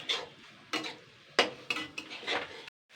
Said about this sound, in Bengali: এটাকে আমি একটু নাড়াচাড়া করে নেবো সুন্দর করে